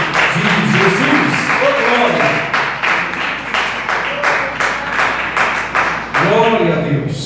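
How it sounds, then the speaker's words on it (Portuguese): Congregation clapping in praise during a church service, a dense steady run of hand claps with voices over it throughout. "As palmas louvem a Deus."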